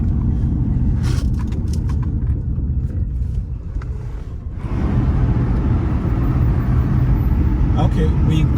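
A car drives through the upscale Maitama district of Abuja, with a steady low engine and road rumble inside the cabin, a brief dip midway, and people talking throughout.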